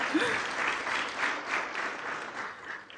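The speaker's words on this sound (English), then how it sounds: "This is where you clap." An audience at a university innovation week and industry summit claps, a fairly faint, steady patter of many hands that swells and eases slightly.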